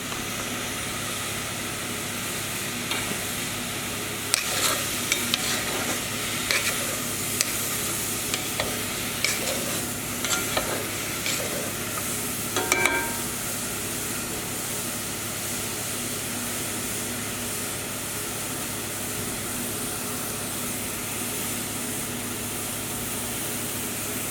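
Mushrooms sizzling in a pan as they're stirred for baked ziti, a steady, soft frying hiss throughout with a few light scraping stir clicks scattered across the middle; no voices.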